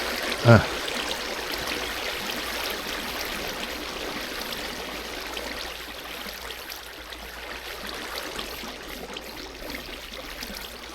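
A Minecraft stream of flowing water gives a continuous soft rushing wash that holds steady throughout, with a brief click near the start and no other sounds standing out.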